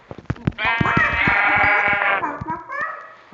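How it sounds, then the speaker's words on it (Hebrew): A sheep in the Minecraft video game gives a long, loud wavering bleat, with clicks and game noises around it and a short second bleat near the end, all close. "מצאתי כבשה, תשים."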